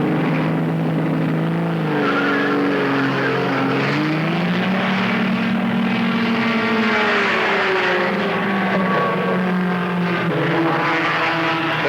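Racing engines of a 1974 IMSA RS BMW and Pinto at Road Atlanta scream loudly and continuously, their pitch climbing and dropping through gear changes as the cars race closely, with no talk.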